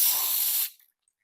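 A short hissing burst from an aerosol can of headlight coating, sprayed as a pattern test during a BMW E46 headlight restoration, loud and close, then cutting off abruptly into silence.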